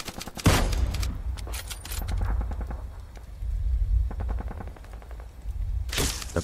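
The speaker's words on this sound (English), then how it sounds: "Carefully, he takes aim and fires" Cinematic gunfire from a British sniper's rifle shot in a Bolt Action tabletop battle: loud sharp cracks with echoing rumbles, followed by bursts of rapid repeated reports, with no talking.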